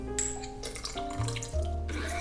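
Ice-cold water runs and splashes steadily into a blender while it blends whipped tahini, a continuous close-up pour with shifting tone as it fills the container.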